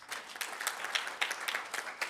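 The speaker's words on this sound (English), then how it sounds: "May we give ourselves, I mean everyone, a round of applause." Audience applause at a public consultation meeting on upstream petroleum local content policy in Katima Mulilo, Namibia: a steady wash of many hands clapping at moderate distance, alone with no talk.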